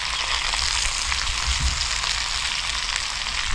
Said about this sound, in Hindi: तो ये देखिए पानी बहुत तेज़ी से उबल रहा है,